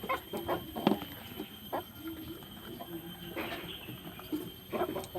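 Chickens feeding, with scattered clucks and faint pecking and rustling at close range over a low steady background hum.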